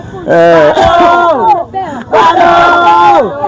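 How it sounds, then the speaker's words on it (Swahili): A wedding crowd at Manda cheers and ululates in two long, loud waves of high, trilling cries close by, with a steady buzz of voices underneath. "Kama unavyoona shangwe na vigelegele vinaendelea katika viwanja hivi vya kwa Manda."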